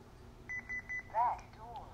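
A Honeywell Lyric alarm panel, paired with a 5820L door sensor, gives three short, evenly spaced chime beeps, followed by a brief synthesized voice announcement, all quiet in a still room.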